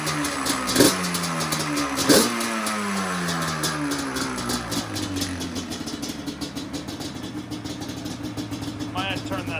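A 2002 Yamaha Banshee engine that had sat unused for years idles steadily and close, with a couple of sharp blips early on and people talking over it.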